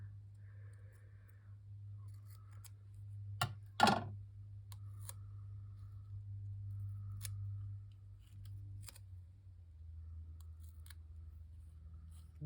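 Scissors snipping linen tape at a craft table, heard as one sharp close cut among a few faint ticks and clicks over a low steady hum, no talk.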